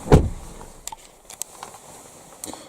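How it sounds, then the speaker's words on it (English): The door of a Jeep Grand Cherokee shuts with one solid, close thump at the start, followed by faint interior clicks and light patter of rain. "I'm just going to shut the door."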